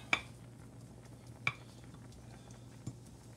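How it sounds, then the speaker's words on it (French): A spoon clinks against a pot while fettuccine is stirred for carbonara, three sparse light metallic taps over a steady low kitchen hum. "Il faut brasser les pâtes, hein?"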